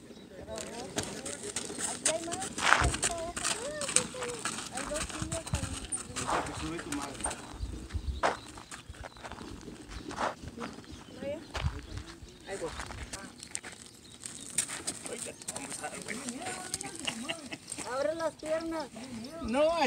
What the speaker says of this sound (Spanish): Se va a subir al caballo.